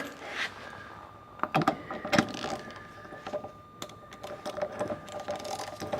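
A socket wrench tightens a nut on a gauge wheel of a newly unboxed zip drill, giving irregular metallic clicks, ratcheting and clanks at close range with small rattles between them.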